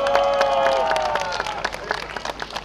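An outdoor crowd at a town celebration in Lubawka applauds to welcome a band, clapping and cheering over a fading sustained tone, the claps growing more scattered toward the end.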